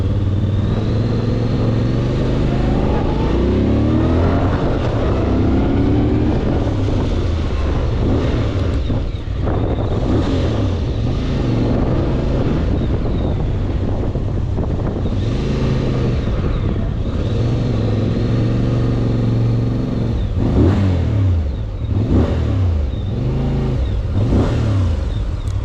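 A Voge DSX 625 motorcycle engine revs repeatedly, climbing and falling in pitch in loud, close surges over steady idle and wind rumble.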